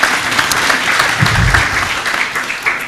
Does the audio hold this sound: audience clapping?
yes